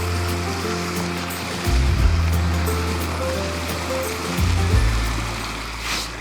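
A mountain stream near a campsite rushes steadily into a main river, a broad continuous wash of flowing water close by, with a low engine-like rumble swelling briefly twice.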